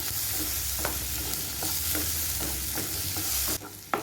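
A chopped medium tomato sautéing in a pan for a potato and peas curry, with a constant close sizzle and regular spatula strokes repeating every half second or so.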